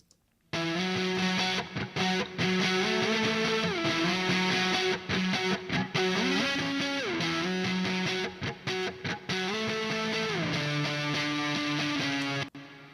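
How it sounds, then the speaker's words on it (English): Distorted electric guitar played through a Soldano amp head, heard alone as sustained, loud chords that shift in steps with brief gaps between phrases. "he wanted to use the Soldano amp head for some sections"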